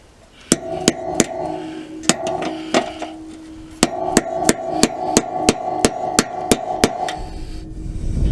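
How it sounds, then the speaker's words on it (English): About twenty close, ringing hammer blows strike an extension bar and socket to tap caravan wheel hub splines home. Scattered hits at first, then a quicker, even run of strikes. "And we just need to tap the splines home."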